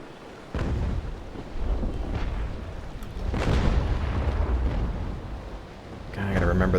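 Sailing-ship cannons in Naval Action fire in several deep, rolling booms that swell and fade, one after another at moderate distance, with a voice talking over the battle.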